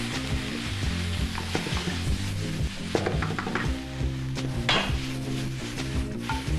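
Food stir-fried in a pan gives a steady, loud sizzle throughout, with scattered clinks and scrapes from stirring.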